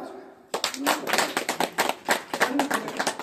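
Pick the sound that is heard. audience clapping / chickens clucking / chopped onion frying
audience clapping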